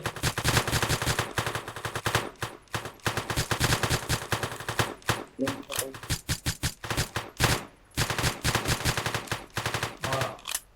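Rapid automatic gunfire from the One-Armed Robber video game during a jewellery shop heist, long dense bursts broken by short gaps, loud and continuous.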